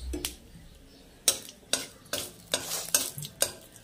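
Dried red chilies fry in hot oil, with a soft sizzle under repeated loud clattering strokes of a spoon or spatula against the pan in an uneven rhythm.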